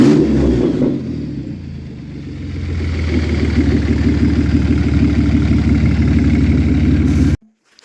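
A 1989 Toyota pickup with a swapped 3.4 engine and no exhaust fitted idles loud and close, a rough, steady throbbing rumble that cuts off abruptly near the end.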